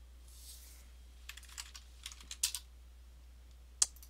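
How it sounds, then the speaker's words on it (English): Scattered, irregular keystrokes on a computer keyboard typed as gibberish, close and fairly faint, with a couple of sharper clicks and quiet pauses between bursts. "I'm literally just typing in gibberish"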